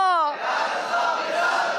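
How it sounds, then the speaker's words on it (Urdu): A crowd at a religious gathering for the Urs of Aala Hazrat raises a loud, massed chant of slogans after a single voice's opening call, sustained and dense for the rest of the moment. "نعرے بھی لگا دیں"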